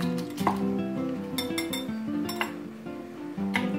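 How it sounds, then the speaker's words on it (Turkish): A utensil stirs spiced potato filling in a bowl, making a quick series of close metallic clinks and taps against the bowl over soft background music. "Şimdi bu arkadaşı karıştıralım."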